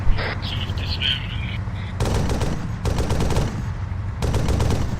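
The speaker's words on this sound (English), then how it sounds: "Enemy fire" Bursts of gunfire during a platoon training exercise, rapid automatic volleys coming in separate loud clusters with short gaps between them, and voices heard briefly in the first moments.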